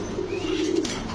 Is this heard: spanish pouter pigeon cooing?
yes